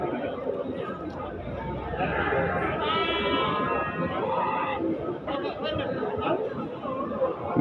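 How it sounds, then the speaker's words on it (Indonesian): Goats bleat repeatedly amid the busy chatter of a crowded outdoor livestock market in Muntilan, Magelang, Indonesia, with people talking throughout. "suara mbek."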